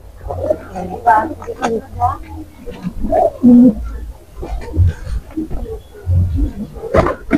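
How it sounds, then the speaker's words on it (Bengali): Pigeons of many breeds at a small pigeon farm coo softly in low, rounded calls among other bird sounds, with people talking nearby throughout. "এখানে আপনারা দেখেন অনেক জাতের কবুতর আছে"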